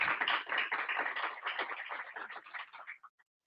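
A small audience at a poverty debate claps for about three seconds, light and close, with the scattered claps thinning out and stopping abruptly.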